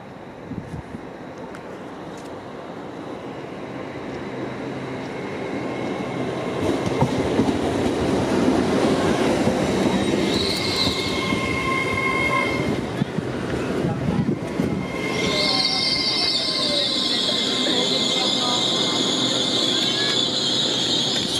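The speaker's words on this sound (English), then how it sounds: "the next train to arrive onto platform 2 is 1304 LNER" LNER Azuma train pulling into a station platform, a rising rumble and clatter of wheels on rails, then a loud high brake squeal as it slows, close to the listener.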